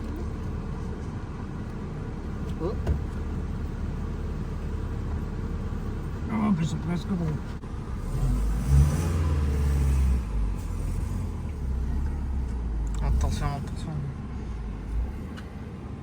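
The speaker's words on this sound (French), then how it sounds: "comme ça le moteur il prend la température" Vintage race car engine idling to warm up, a low steady rumble throughout with a deeper swell midway, heard near and beneath conversation between people.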